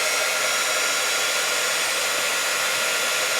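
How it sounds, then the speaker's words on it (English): A heat tool blows steadily and loudly on altered die cuts to set the color, a constant broad whooshing airflow heard alone with no talk. "So let's use our heat tool before we wipe off all of the color off of there."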